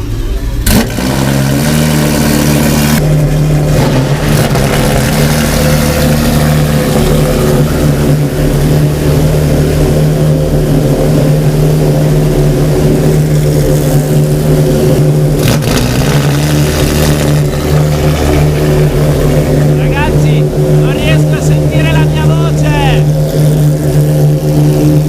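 Ferrari 599 engines start and warm up at an exclusive track day, a loud, steady low drone of idling engines lasting throughout, with a sharp start-up burst near the beginning and people talking over it.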